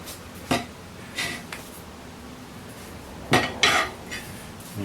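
A metal tire spoon clanking against the steel wheel rim of a Ford F250 7.3 during a tire change, several sharp metallic clinks in small clusters, close and moderately loud.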